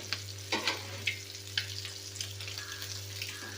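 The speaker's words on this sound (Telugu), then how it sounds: "రెండో వైపు కూడా వేగాలి కదా." Boiled eggs frying on their second side in a pan for a tomato boiled egg fry, a quiet steady sizzle broken by several sharp clicks and scrapes as they are turned, close and alone.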